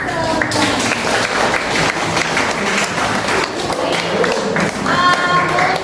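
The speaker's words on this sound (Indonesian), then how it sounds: "Tepuk tangan untuk" Students in a classroom clap for their classmates, a lively burst of dense applause with some tapping and voices mixed in, loud and sustained throughout.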